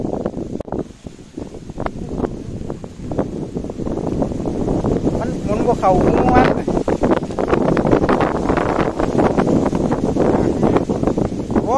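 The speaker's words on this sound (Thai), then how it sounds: "อากาศหนาวมากลมเย็น" Cold wind blows outdoors at a rural solar-panel and water-pump installation, buffeting the microphone with continuous rough, gusty rumble while someone talks over it.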